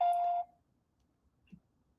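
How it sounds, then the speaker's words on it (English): A single steady electronic beep signals the start of a phone call, loud and held for under half a second, then near silence with one faint low thump. "Press 1 to start. The call will start at the beep."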